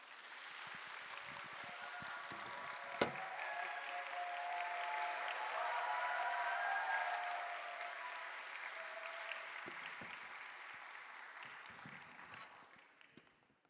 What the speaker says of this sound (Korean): 우리 이 시간 이재남 목사님을 앞으로 초청할 때 큰 박수로 환영하겠습니다.